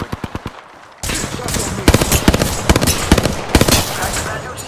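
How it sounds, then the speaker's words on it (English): Rapid automatic gunfire in Apex Legends starts with a few crisp single shots. It then runs into a loud, dense burst with sharp repeated cracks and impacts throughout. "Firing."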